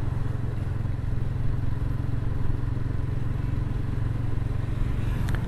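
A motorcycle rides along a potholed road in Trenggalek, its mid-pitched engine droning steadily and loudly with faint clatter from the rough surface, continuous throughout with no talk.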